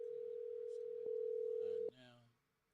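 A phone line on a call gives a steady, loud ringback tone that holds for nearly two seconds and then cuts off, with a voice talking quietly under it and briefly after it.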